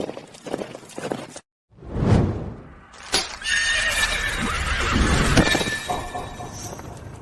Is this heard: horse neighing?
yes